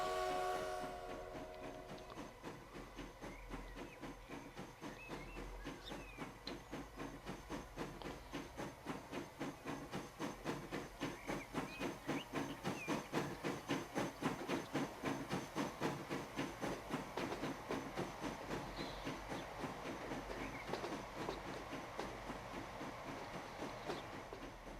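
Flying Scotsman steam locomotive in Transport Fever, a faint rhythmic chuffing that picks up pace into a steady clickety-clack with hissing steam, heard alone and low in level.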